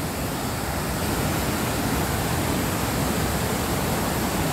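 Water rushing over the Khardu dam at the Khardu drinking-water project, swollen with high flow, a dense, loud, unbroken roar of falling water filling the whole scene, with no voices.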